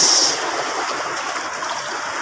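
A steady rushing wash of water, like strong waves surging nearby, heard as a continuous broadband roar that opens with a brief loud burst and then stays even.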